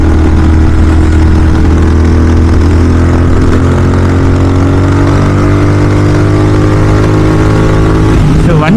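A KTM 390 or GT650 motorcycle fitted with a Red Rooster exhaust holds a loud, deep exhaust note close by, rumbling steadily with slight pitch changes and a brief rise near the end.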